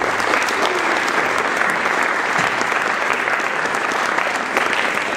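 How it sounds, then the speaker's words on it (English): Audience at an interfaith dialogue event in a Mennonite church applauding, a steady, even roar of many hands clapping that holds throughout without letting up. "So let's give him a round of applause."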